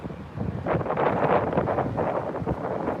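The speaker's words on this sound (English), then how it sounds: "Oh, it's getting windy as well." Wind buffets a microphone on a grass mound beside Heathrow Airport, a loud broadband rumbling gust that rises quickly and holds steady for a few seconds with no voices.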